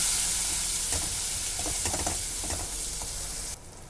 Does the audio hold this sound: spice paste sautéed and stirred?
yes